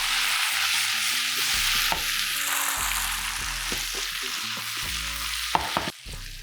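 Gnocchi with pan-roasted pumpkin, sage leaves and pine nuts tossed in sizzling butter, a steady close frying hiss broken by scraping stirs and a couple of sharp clatters near the end, with a tonal musical bed underneath.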